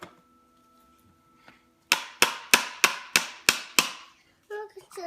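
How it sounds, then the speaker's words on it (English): A hammer from a toy tool box bangs seven times in quick, evenly spaced, sharp strikes close to the listener, after a quiet pause. "Okay, okay, get the hammer."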